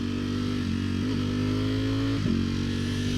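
A 2021 Ducati Streetfighter V4S motorcycle engine in race mode, loud and close, with a steady roaring drone and brief rev changes, running continuously with no talking.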